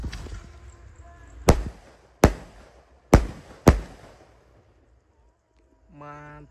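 Firecrackers set off ahead of Ramadan give four sharp, loud bangs spaced about a second apart, each with a short echoing tail, followed by quiet and then a brief voice at the end.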